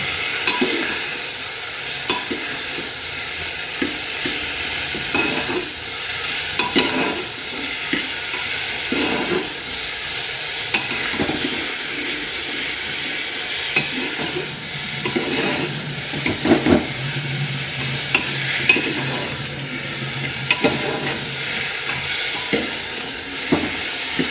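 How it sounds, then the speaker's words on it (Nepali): Tomato and a ginger, timur and chili paste stirred in a frying pan for a karkolo curry, a steady sizzle with repeated scraping strokes of a spoon throughout. "र टमाटो पनि लगाउनुहोस् यसमा। अनि मजाले चलाउनुहोस् है।"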